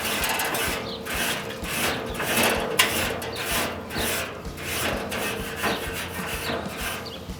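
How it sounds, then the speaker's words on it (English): A barbecue grill grate gets a quick brushing, with repeated back-and-forth scraping strokes that rasp close and fairly loud in an uneven rhythm, and no talking over them. "I'll put my grate on. Give it a quick brush."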